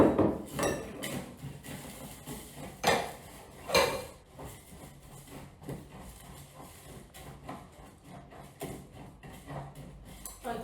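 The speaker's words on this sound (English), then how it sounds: "Mix everything." Granola ingredients with dried bananas are stirred in a bowl, making irregular clattering knocks and scrapes of a utensil against the dish, close and fairly quiet, with louder clanks near the start.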